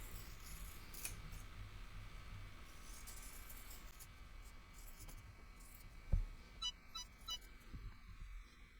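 Scissors snip through fabric close to a line of stitching while sewing a bookmark for an A5 notebook pen holder, a faint, steady rasping cut with a few sharper clicks near the end.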